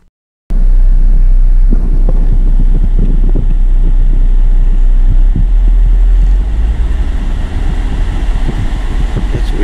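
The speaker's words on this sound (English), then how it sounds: "Watch what happens when I rev the engine up." A GM 3.6L engine with a lean-at-idle fault runs close to the microphone, a loud, low, steady rumble that kicks in abruptly after a brief silence, buffeted by wind-like noise and easing slightly toward the end.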